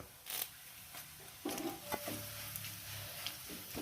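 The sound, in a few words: curry leaves sizzling with ginger and garlic in pan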